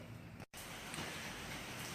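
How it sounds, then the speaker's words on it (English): Rain falls outdoors near a Weber Smokey Mountain smoker in a garage: a steady, dense hiss of drops on surfaces, continuous and fairly close, briefly cut off once. "The rain is coming down."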